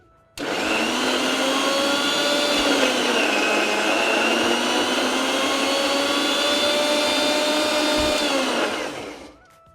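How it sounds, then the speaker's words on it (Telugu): A mixer grinder whirs loudly and steadily for several seconds, blending masala paste, starting abruptly and winding down at the end. "దీన్ని ఒకసారి కంప్లీట్గా బ్లెండ్ చేసుకుందాం"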